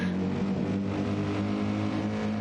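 A Mercedes race car engine in a racing video game at a 24 Hours of Daytona round gives a brief, steady, loud mechanical drone with a strong tonal hum.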